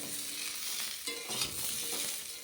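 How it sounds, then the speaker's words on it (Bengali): Cauliflower fritters fry in hot oil with a steady, moderately loud sizzle and crackle, broken by a few soft stirring scrapes. "এই ফুলকপিটা একটু বড়া ভেজে ফেলবো"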